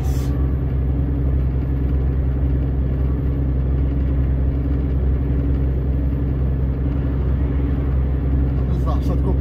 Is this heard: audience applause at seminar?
no